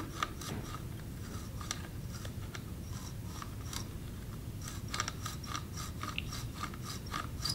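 A metal tube is deburred inside and outside with a hand tool before flaring, giving faint repeated close scraping clicks and ticks in a quiet room.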